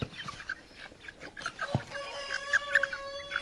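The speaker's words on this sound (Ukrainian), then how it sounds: "Це мої менші кохінхіни." Young Cochin chickens cluck and chirp nearby in short, irregular calls, joined by a sustained higher-pitched call in the second half.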